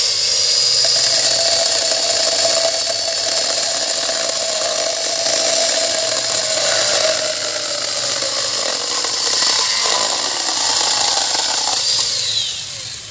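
A cordless saw whines continuously at high pitch while cutting wood, its motor tone shifting slightly as it cuts, loud and close with no talking.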